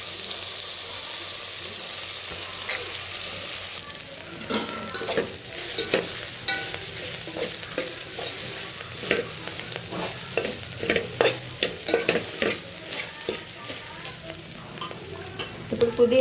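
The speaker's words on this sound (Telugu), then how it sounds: "ఇదిగండి ఇప్పుడు మిల్ మేకర్లు వేసుకోండి." Soya chunks go into a hot pan with carrots and spices for veg pulao, a constant sizzle punctuated by repeated scraping stirs of the spoon, close and lively with no talking.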